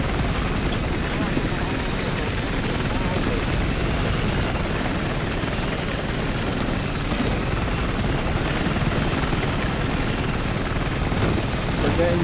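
Helicopter rotor and engine drone in the video game Battlefield 6, a loud, steady whir that holds constant throughout with no breaks.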